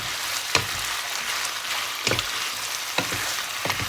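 Fish balls stir-fried with curry paste sizzle steadily in a pan, with a few sharp scrapes and stirring clicks spaced through the continuous frying hiss; no one speaks.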